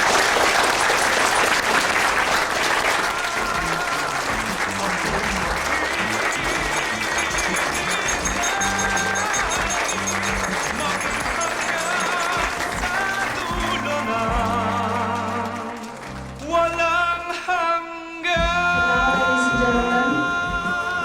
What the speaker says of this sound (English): Please, let's give them a standing ovation.